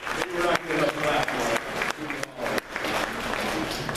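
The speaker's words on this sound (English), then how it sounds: "let's give a round of applause" Audience clapping at a company kick-off meeting, a dense, steady patter of many hands that carries on without a break for about four seconds, loud and close.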